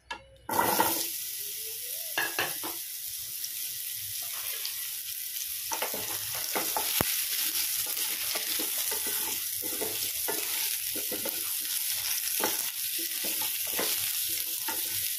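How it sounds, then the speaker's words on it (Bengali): Pumpkin pieces drop into hot oil and burst into a loud, steady sizzle that continues throughout, broken by faint scraping and stirring sounds. "এবারে ওই তেলের মধ্যে আমি কুমড়োগুলো দিয়ে দিচ্ছি।"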